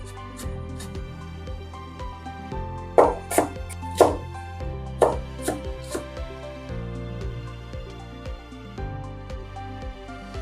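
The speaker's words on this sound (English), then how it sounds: "slice up some onion." A kitchen knife slices through onion on a cutting board, a handful of sharp, uneven cuts clustered in the middle over steady background music, close and fairly clear.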